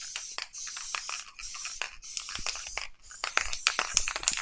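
Spray glue hissing from a can, three sharp bursts of pressurized spray separated by short pauses, then a fourth longer burst mixed with light scratching and crinkling handling sounds.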